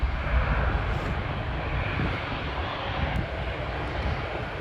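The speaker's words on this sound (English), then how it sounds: "the newest airplane of the fleet of KLM" A KLM Airbus A321neo at Schiphol airport produces a steady, broadband jet-engine roar at moderate distance, with light wind rumble on the microphone and no talking.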